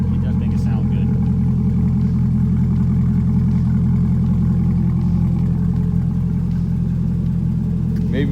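Chevrolet Corvette C8 Stingray V8 with a center exhaust idling steadily, a loud, close, continuous low rumble with a faint burble throughout, with people talking over it.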